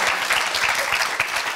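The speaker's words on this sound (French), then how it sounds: "Applaudissements pour Robert." A TV studio audience bursts into steady, dense applause for Robert, a 75-year-old guest on a comedy quiz show, the clapping sustained and close throughout with a brief louder spike near the end.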